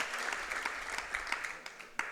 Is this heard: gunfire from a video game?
no